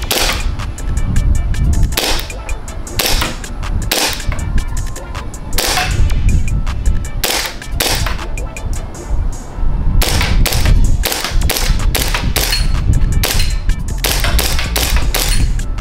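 Green gas gel blaster firing a rapid string of sharp, loud pops at a target about 20 feet away, shots coming in quick bursts with short pauses between volleys.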